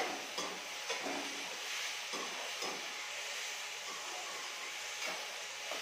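Chicken frying in a pan with chopped tomato and onion, a steady close sizzle with occasional stirring scrapes.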